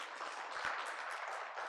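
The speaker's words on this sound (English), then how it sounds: "all of you deserve a round of applause" Applause from an audience at a 59th Foundation Day celebration, a steady, fairly faint wash of many hands clapping without pause.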